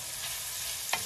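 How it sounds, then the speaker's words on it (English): Onions sauté in a pan with a steady, close, dense sizzle throughout and one brief scrape of a utensil near the end. "So we're gonna let this saute."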